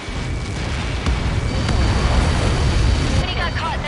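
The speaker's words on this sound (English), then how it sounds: "Many got caught in that explosion." A massive projectile impact explosion in the Ace Combat 7 flight combat game gives a loud, sustained rumbling roar lasting several seconds, with bursts of noise and voices over it.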